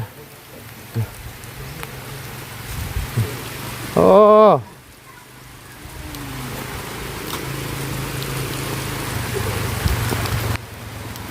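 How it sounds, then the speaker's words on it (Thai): Steady rain falls with a broad hiss under outdoor ambience; a brief, loud exclamation from a person cuts in near the middle. "ฝนมาแล้ว"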